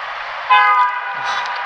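A train sounds its horn while passing a railway crossing as road traffic waits at the signal. The horn gives one loud, clear, sustained tonal blast that swells briefly and then holds.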